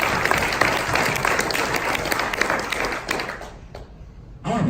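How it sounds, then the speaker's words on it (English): Audience round of applause at a talk, dense and sustained clapping from a crowd that fades out near the end, followed by a brief sound at the close. "Can we get a round of applause for them?"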